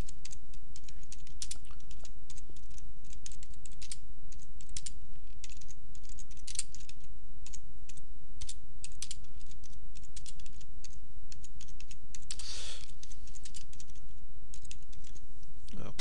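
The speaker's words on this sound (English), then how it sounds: "And then we type in a description." Fast, steady clacking of a computer keyboard as a description is typed, close and continuous with a short burst of heavier keystrokes near the end.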